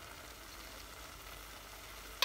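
Carrot ladoo mixture sizzles softly in a pan as milk powder is stirred in, a steady low frying hiss ending with a single sharp scrape or tap of the spoon against the pan.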